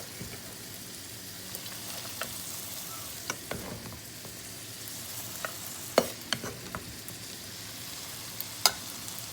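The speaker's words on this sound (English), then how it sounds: "Okay, so I'm adding the rice." Rice stir-fried in a pan for chicken fried rice: soft steady sizzling broken by scattered scraping and clinking of the utensil, close and fairly quiet.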